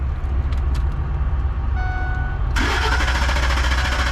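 A 1971 Chevelle engine cranks on a 15-volt battery with a low, steady rumbling churn, then a sudden louder, brighter surge partway through as it tries to catch.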